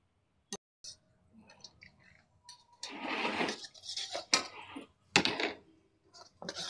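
Cashews dropped into a pan of hot oil while frying Atukula mixture (poha snack) set off a rising, hissing sizzle that swells partway through, with a few sharp clicks and clatters before it and a voice speaking faintly over it.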